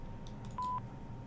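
Telephone line tones on a call-in radio show: a few faint clicks, then a single clear steady dialing-style tone lasting about a fifth of a second, heard alone over low line hiss.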